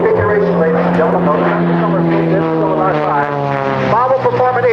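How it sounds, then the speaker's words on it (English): Steady, loud propeller drone from an Aero Commander twin-prop airplane flying on one engine during an air show, the engine pitch shifting gradually as the aircraft maneuvers overhead. "Now, the aircraft still in the single engine configuration"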